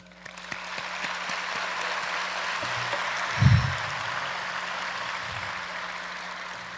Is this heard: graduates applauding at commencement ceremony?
yes